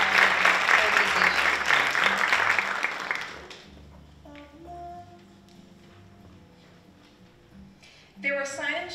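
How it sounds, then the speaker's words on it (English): Loud audience applause at a university scholarship pageant, a dense wash of clapping that fades away after a few seconds into quiet room tones and soft musical notes, then a brief burst of sound near the end. "Please give them all a great round of applause for supporting the Miss West"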